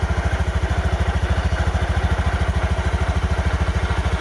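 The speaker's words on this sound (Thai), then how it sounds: "อันนี้คือเสียงเครื่องคอสตาร์ติดใหม่ๆเลยนะครับ" A car engine idles steadily up close just after a cold start, a fast even chugging pulse with no other sounds.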